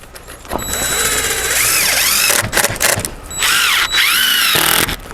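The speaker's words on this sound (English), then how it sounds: "We're fastening it with the wood to hold better with some screws" A power drill driving screws into wood on a greenhouse frame in snowy conditions, two loud, close whirring bursts with rising and falling motor pitch, separated by brief pauses.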